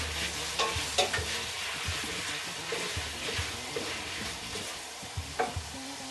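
Chopped tomatoes cook in a pan for a Caribbean conch dish, a soft crackling sizzle with scattered light clicks and scrapes of a utensil, close and fairly quiet with no talk.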